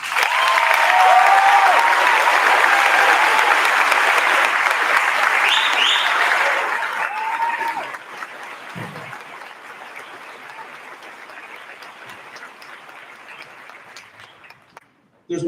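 A large audience at a high school graduation claps loudly for several seconds, then the applause thins and fades to a few scattered claps before going quiet.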